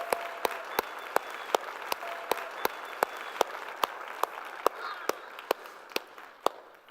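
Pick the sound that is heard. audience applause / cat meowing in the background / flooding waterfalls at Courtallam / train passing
audience applause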